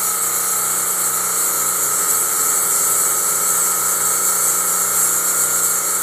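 A spinning rotor on a rotary plasma discharge device gives off a constant high-pitched whine and hiss with steady tonal bands, unchanging and loud for the whole stretch, with no talking.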